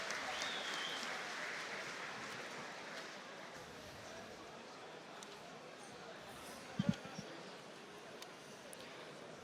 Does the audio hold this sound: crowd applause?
yes